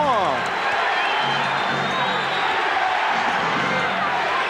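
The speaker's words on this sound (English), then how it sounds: "Crowd with the chant of defense." Crowd at the 1991 NBA Finals Bulls–Lakers Game 3 basketball game chanting for defense, a steady arena roar under a commentator's voice.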